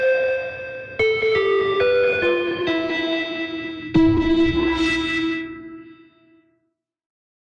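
Warm, overdriven synth notes with a vacuum tube distortion character, stepping through a short phrase and ringing out into reverb before fading to silence.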